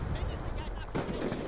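Gunfire in the video game Call of Duty: Black Ops 2: a sharp, loud shot bursts out partway through, over dense, continuous in-game battle noise and voices.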